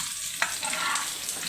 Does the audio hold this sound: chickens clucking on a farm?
no